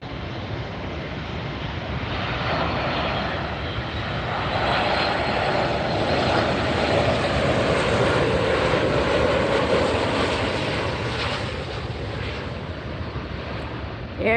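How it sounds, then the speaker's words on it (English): Air Canada airliner landing at LAX on the north side, a loud sustained engine roar that swells and then holds, with wind rushing across the microphone. "Air Canada touching down"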